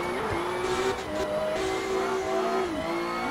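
Clutch-kick drifting in Assetto Corsa: a simulated race car's engine drones loudly and steadily, with repeated brief rev drops and surges and a light skidding hiss underneath.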